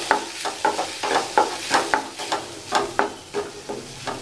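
Ginger garlic paste frying with tomatoes in a pan, a steady sizzle broken by rhythmic scraping strokes of a spoon stirring, close and clear with no talk.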